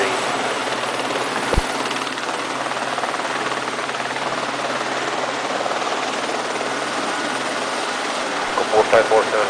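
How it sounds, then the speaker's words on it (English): Aviheco 4547 helicopter preparing for takeoff at Puerto Asís, its turbine and rotor giving a loud, steady, close roar throughout, with voices faintly present underneath. "4547 helicopter, ready for deployment"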